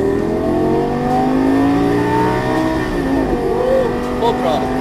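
An exotic race car on the Las Vegas Motor Speedway accelerates at full throttle, a loud sustained engine drone with rising pitch inside the cockpit, and a voice talks over it.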